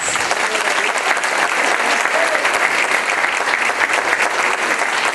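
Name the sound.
audience applause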